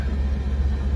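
Steady low engine rumble of a car being driven away from McCarran, a continuous droning hum without pauses or voices.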